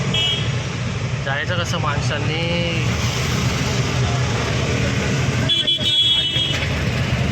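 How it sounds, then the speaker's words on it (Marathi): Car horns honk in busy traffic on a street in Pune, India, over a constant road rumble, with a person talking through the noise. "त्यांना हॉर्न वाजवून चालले."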